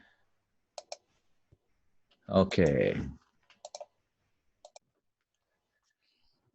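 Sparse clicks of a computer keyboard come in small clusters, quiet and close, with a single short spoken word in between.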